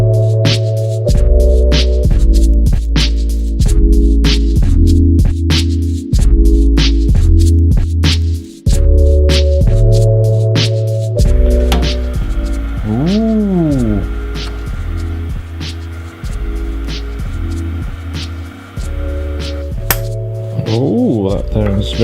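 A 3D printer prints a microphone clip, its stepper motors buzzing and humming in changing tones with rhythmic clicks and short whirring sweeps, loud and close.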